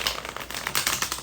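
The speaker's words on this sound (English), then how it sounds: "Oh, why did I shuffle these?" A deck of pocket-sized tarot cards is shuffled by hand close up, producing a quick run of crisp riffling flutters and taps with no talk.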